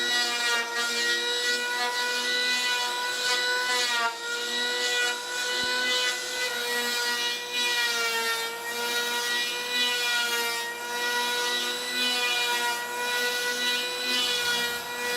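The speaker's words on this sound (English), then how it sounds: "So the next step is to bust out the planer again," Power planer working over a surfboard blank, a sustained whining buzz with steady harmonics that rises and dips slightly in passes over about fifteen seconds, loud and close with no talking.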